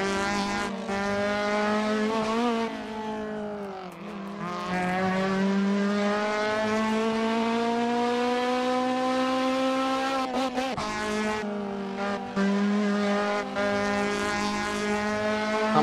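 A race car engine in Assetto Corsa revs and accelerates loud and steady throughout, its pitch climbing through gears with brief drops at shifts, close and continuous with no voices.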